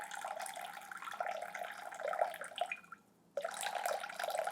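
Water runs steadily into a bowl for sourdough focaccia dough, a continuous splashing stream that briefly stops near the end before resuming.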